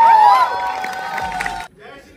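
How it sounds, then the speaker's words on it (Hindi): A large crowd at Horror Con Delhi 2024, a Halloween festival, erupts in loud cheering and applause with whoops and babble, sustained for about a second and a half before cutting off abruptly into quiet. "So Shivam Singh Rajput, Shivam is on के लिए जोरदार तालियां।"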